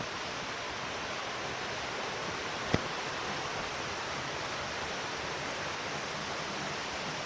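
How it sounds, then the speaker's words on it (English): Fallingwater Cascades waterfall on the Blue Ridge Parkway, heard close up as a constant broadband rush of falling water, steady and even throughout, with one brief sharp click partway through. "we get a pretty cool view of the upper part of the waterfall close up."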